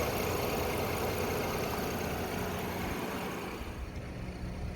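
A 2017 Ford Explorer XLT V6 with 145,000 miles idles smoothly, a steady, even hum with a constant low rumble, heard close and alone.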